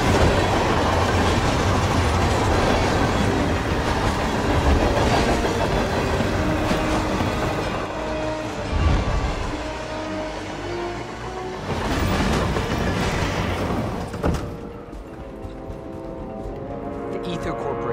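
A train in the video game Hitman 3 rolls along the rails with a loud, continuous rumble and rhythmic clatter that swells and thins. A voice talks over it for much of the time.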